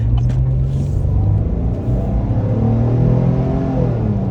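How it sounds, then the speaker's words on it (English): 2023 Chevrolet Silverado engine pulling under acceleration, a loud low rumble whose pitch climbs in stepped sweeps as the 8-speed automatic shifts up. "paired to this engine is an 8-speed torque converter automatic, and, you know, it shifts pretty quickly"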